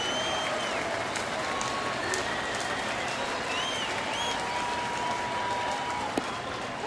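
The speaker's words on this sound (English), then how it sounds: "Michael Bourne is in there now with 2 outs and the crowd to its feet." Baseball crowd at a Cleveland at Detroit game on its feet, sustained dense cheering and applause filling the stadium, steady and loud throughout with a few faint whistles rising above the roar.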